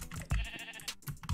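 Sheep bleats in the Minecraft video game, a couple of short nasal bleats among clicking keyboard taps and game noise, fairly faint overall.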